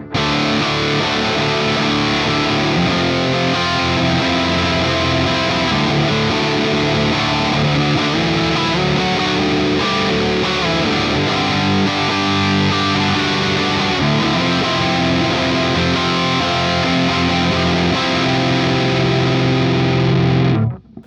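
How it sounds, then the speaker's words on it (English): Thick, saturated electric guitar through an ML Sound Lab Amped Dual plugin on a Dual Rectifier amp setting, with heavy distortion, plays steady riffs and chords for the whole stretch, loud and close, ending in a sudden cutoff. "It's a dual rectifier."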